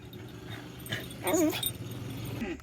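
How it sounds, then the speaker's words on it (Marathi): A tied-up dog whimpers and whines in a village setting, a thin rising-and-falling cry that peaks midway, close and fairly loud, with no talking. "ब्रुणो कसा उड्या मारतो बांधलाय नुसता कुत्र्यांच्या मागे जातो"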